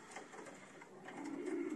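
A racing pigeon coos softly in a loft, a low faint purr that grows a little stronger toward the end, with no voices.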